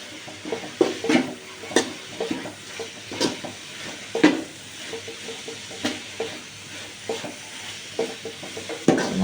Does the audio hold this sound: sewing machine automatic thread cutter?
no